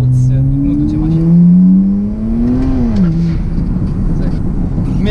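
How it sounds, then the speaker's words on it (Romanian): Turbocharged BMW 335i, modified to around 600 hp, accelerating up close with a loud engine tone rising steadily and then dropping back, a continuous roar with no break. "Mie îmi place turbo cum se aude"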